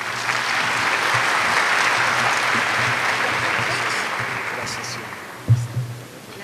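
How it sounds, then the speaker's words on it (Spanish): Sustained audience applause at a scientific conference on metabolic syndrome, a dense even roar of clapping that fades slightly near the end, with a few bumps and murmurs as it tapers. "Un fuerte aplauso para él, por favor."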